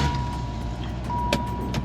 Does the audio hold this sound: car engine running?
yes